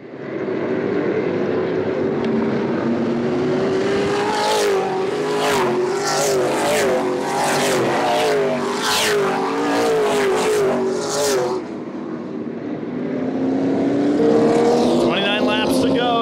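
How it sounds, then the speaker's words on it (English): Late model race cars roar past in a dense pack at Havasu 95 Speedway, engines revving and droning loudly, with rising and falling pitches as they accelerate around the track. "Jagger Jones gets on the gas. Green flag is in the air."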